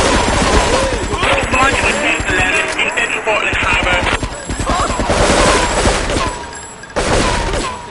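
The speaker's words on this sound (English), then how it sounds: "Investigate report of gunfire and explosion." Grand Theft Auto III gunfire crackles in loud, rapid automatic bursts that hammer on almost without pause, with game voices talking over the shooting.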